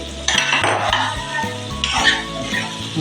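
Boiled prawns with turmeric being stirred in a pan over tomato masala, giving a near, steady scraping and clinking of a spoon against metal with a soft sizzle underneath, in two louder bursts.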